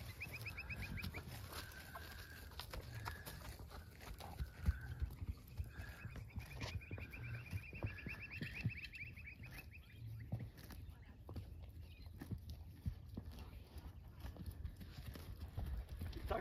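A gaited horse being walked on a rural farm makes a light, steady clip-clop of hooves, with chickens clucking in the background.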